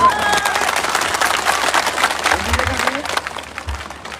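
Crowd at an election rally in Gauripur, Dhubri, applauding and clapping in a dense, steady wash for a few seconds, with voices mixed in and a murmur of talk under the clapping.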